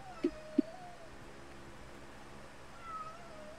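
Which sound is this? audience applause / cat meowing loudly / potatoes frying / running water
cat meowing loudly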